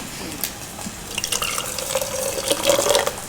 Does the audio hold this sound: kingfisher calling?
no